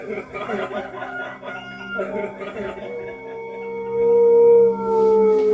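A rooster crows nearby, a long drawn-out call swelling near the end, after some rough animal or vocal sounds.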